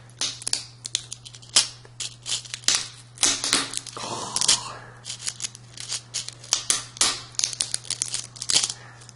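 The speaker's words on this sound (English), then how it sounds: "I don't think it's designed for people to cut them in half." Close, irregular crunching and snipping as a hard, brittle rattlesnake rattle is cut in half, with a steady low hum underneath and a brief exclamation from a voice.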